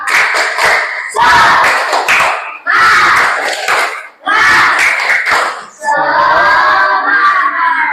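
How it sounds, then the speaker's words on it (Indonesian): A school class led by a teacher claps out a rhythmic spirit cheer: four bursts of loud group clapping with short pauses between, then a final stretch of patterned claps with shouted voices mixed in. "Tepuk semangat."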